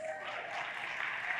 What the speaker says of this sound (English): Another stronger round of applause.